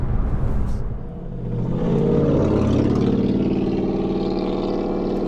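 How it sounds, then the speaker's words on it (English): A straight-piped truck exhaust roars close by, dipping briefly, then building into a loud, sustained rev that holds to the end. "Straight pipe trucks, man."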